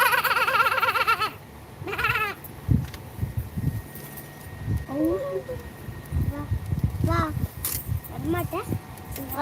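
A young goat bleats in a village during the Mattu Pongal festival, several short wavering cries spread across the moment, mixed with people talking and nearby clatter.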